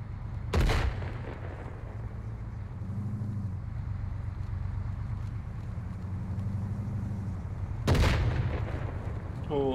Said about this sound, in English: Explosion right side.